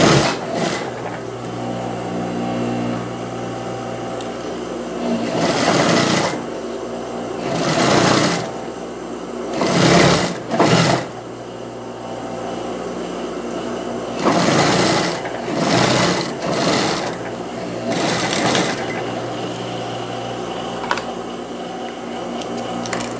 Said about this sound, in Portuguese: Primeiro eu vou fechar aqui as duas partes, juntando aqui direito com direito e passando uma costura aqui na parte de cima